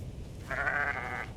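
One short bleat from a sheep in the video game Aloft, moderately loud and clear, lasting under a second with no talk over it.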